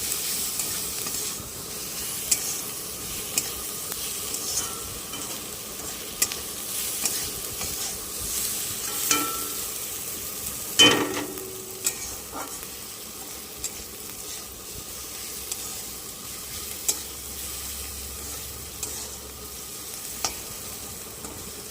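Onion fries soft in a pan for Bengali egg chops, a steady close sizzle with occasional scrapes and clinks of stirring and one sharper knock midway, with no talking.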